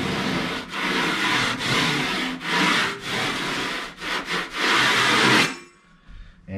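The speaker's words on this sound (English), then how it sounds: "all you need to do now is go around and just scrape all the high spots off" A knife scrapes high spots off a freshly rolled wall texture in a mid-century ranch home, making loud, close, rasping strokes in a steady series with brief pauses between them.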